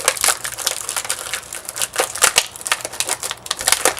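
A tanto knife slicing through plastic gives a dense run of loud, close crunching and crackling snaps at an uneven rhythm, heard alone without talk.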